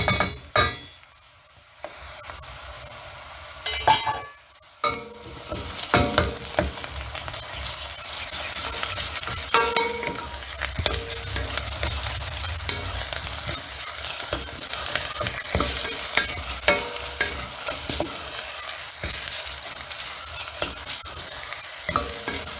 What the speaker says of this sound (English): Then we are frying this. Okay, that is what we are frying, our ndengu.